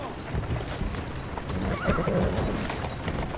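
A horse in the video game Assassin's Creed Syndicate gives a loud, close neigh over clip-clopping hooves and a cart's rumble, with a faint voice in the background.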